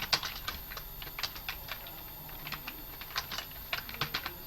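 Steady typing on a computer keyboard in WordPad: a run of crisp, close keystrokes in irregular bursts, with no talking over it.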